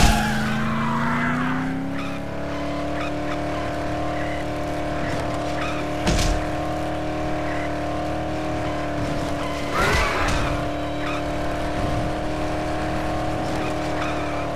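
Car engine in the zombie game Dead Island holds a steady, loud droning tone as it accelerates, with tire skids and sharp scuffs breaking through around six and ten seconds, continuous throughout with no talking.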